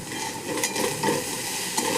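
Shredded cabbage salted in a hot pan with mustard seeds sizzles steadily while a spoon stirs it, scraping the pan now and then with a few soft clinks.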